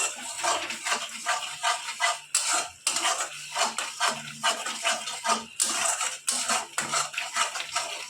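A spoon scraping and clattering in a pan while stirring a paste of ground poppy seed and green chillies, repeated rhythmic metallic scrapes with short pauses, close and steady.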